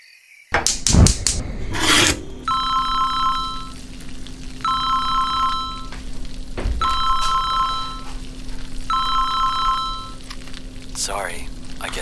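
A telephone rings four times in evenly spaced bursts, steady and fairly loud, over a low background hum, with a few knocks and rustles at the start and end.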